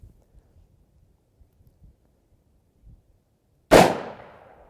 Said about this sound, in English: We're gonna shoot, let's shoot at the bottom right this time